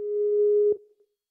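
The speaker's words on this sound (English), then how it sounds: "It sounds like it's ringing right." A single steady telephone ringback tone sounds during an outgoing phone call. It holds for about three-quarters of a second and then cuts off abruptly, leaving only a faint tail.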